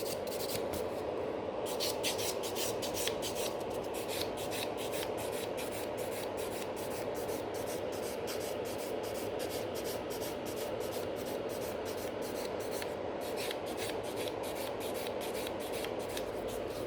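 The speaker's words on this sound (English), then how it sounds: "take a buffer and just give it a couple scratches so it's nicely buffed" A nail buffer scratched back and forth over sculpted coffin-shape gel nail extensions gives a continuous, close, dry scraping and rubbing sound with rapid repeated strokes throughout.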